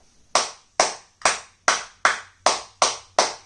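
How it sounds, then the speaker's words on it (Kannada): Eight sharp, evenly spaced claps ring out one after another in a quiet room, each loud with a quick decay, a slow deliberate rhythm of applause for a performer. "ಚಪ್ಪಾಳೆ ಹೊಡೀರಿ."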